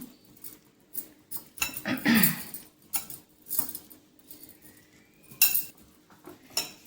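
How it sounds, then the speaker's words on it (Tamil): Light clinks and scrapes of a utensil against a bowl come in irregular bursts, quiet and close, with brief pauses between strokes. "இது எல்லாத்தையும் ஒன்றா சேர்த்து மிக்ஸ் பண்ணிக்கலாம்."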